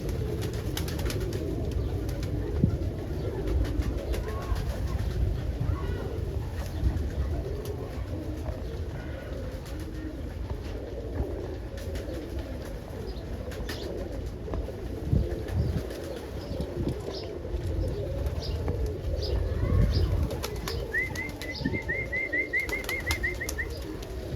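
Low, continuous cooing of roller pigeons murmurs throughout a loft, with occasional wing flutters and a faint high chirp near the end.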